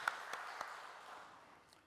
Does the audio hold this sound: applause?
yes